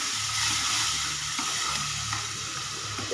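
Thick tomato paste sizzling and bubbling in a hot pan as a gravy base, with soft stirring scrapes and a low steady hum underneath.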